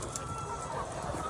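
Layer hens on a poultry farm in Pakistan cluck softly in the background, a faint continuous murmur of calls without any distinct loud crow.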